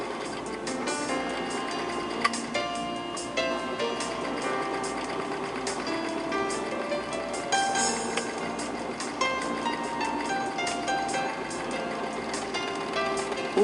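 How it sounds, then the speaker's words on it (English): A serger overlocks the raw edges of a folded fabric strip, its motor and stitching mechanism running in a fast, continuous mechanical whir with rhythmic clicking, steady and close, with no voices. "Place the folded strip under the presser foot and serge the raw"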